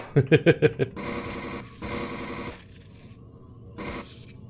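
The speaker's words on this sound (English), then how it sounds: "It's like one Zirax minigunner and a bunch of dogs." Alien dog creatures in the sci-fi survival game Empyrion Galactic Survival growl and snarl in a quick burst of five or six loud, rhythmic barks, followed by harsher scraping growls that come in two longer waves and then a fainter one.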